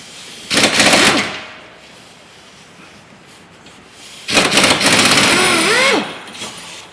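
A power tool working on a 15mm bolt in a car's rear subframe, two loud whirring bursts of about a second each separated by a quiet pause, close by.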